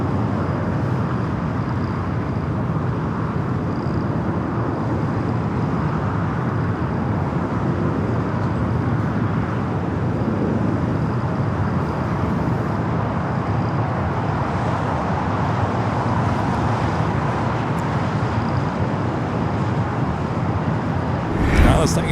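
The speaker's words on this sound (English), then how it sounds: "The Dreamliner rolling down to 24 left, heading back to Tokyo Haneda." A Boeing 787 Dreamliner taxiing toward runway 24 left at Los Angeles International Airport gives a steady, broad jet rumble that holds level throughout, with a brief louder swell right at the end.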